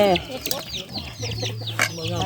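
Chickens on a family farm in a mango orchard cluck and squawk in quick, close bursts, several calls overlapping over about two seconds.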